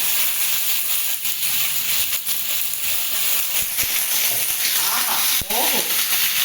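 Loud, steady sizzling hiss of green chillies frying in hot oil, close up, with a few sharp clicks and a brief voice near the end.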